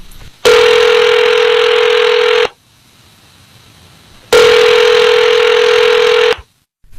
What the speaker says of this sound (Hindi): तुरंत फोन मिलाया बाबूजी ने।